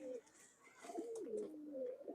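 Pigeons from an old Khulna bloodline cooing close by, a few low rolling coos in quick succession, faint background noise and no clear talk.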